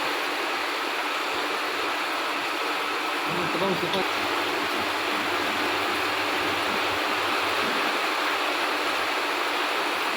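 Heavy rain pouring down outside a house, with rainwater running through the doorway: a dense, steady wash of hiss and rushing water that stays constant and loud throughout, with a voice talking faintly now and then.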